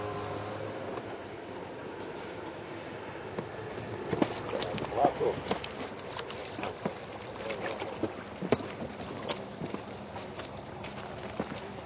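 A rowboat crossing Zlatar lake, with irregular knocks and soft splashes of oars against a steady water-and-air hiss, and faint voices now and then.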